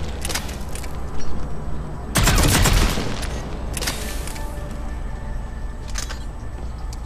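Gunfire in the video game Mass Effect 3 while shooting an enemy, with a heavy blast burst and scattered sharp shots over a steady background of game ambience and mechanical noise.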